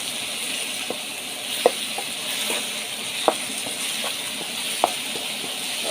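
Beef liver fries and is stirred in a pan with spices, giving a steady close sizzle with soft scraping knocks from the stirring spoon at irregular intervals.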